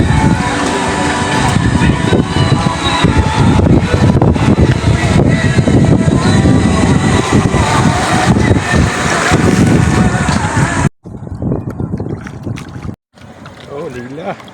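A small fishing boat's engine drones steadily over wind buffeting the microphone, with people talking on board; the engine noise drops out abruptly for a moment near the end, then resumes.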